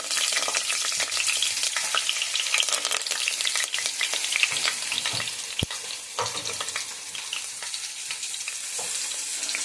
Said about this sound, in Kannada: ಎಣ್ಣೆನ ಇಟ್ಕೊಂಡಿದ್ದೀನಿ ಕುಕ್ಕರಲ್ಲಿ. ಪಲಾವ್ ಎಲೆ ಮತ್ತು ಏಲಕ್ಕಿ, ಸ್ವಲ್ಪ ಕಾಳು ಮೆಣಸು, ಕರಿಬೇವಿನ ಸೊಪ್ಪು